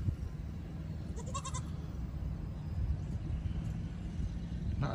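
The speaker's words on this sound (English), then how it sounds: "There's the tree goats." Goats on a farm, some resting up in a tree, give a short burst of several bleats partway through, moderately near, over steady outdoor background noise.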